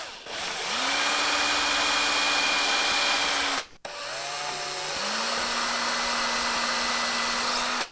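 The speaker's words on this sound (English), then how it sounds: "So I'll drill two pilots." Power drill boring two pilot holes into a wooden router bit storage box, the motor whining steadily and close, with a short pause between the two holes and no voices.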